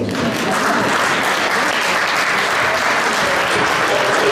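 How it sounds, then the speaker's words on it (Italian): Dense, loud applause fills the hall as an audience claps together, a thick continuous wash of many hands without pause and with no speech over it. "Dovete farmi un applauso per loro."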